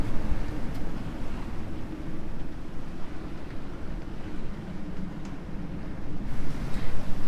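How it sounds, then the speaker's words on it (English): Steady strong wind roars over a sailboat riding at anchor in heavy rain, a continuous low rushing wash with gusty surges and no voices. "We've just got plenty of rain, weather and wind coming through."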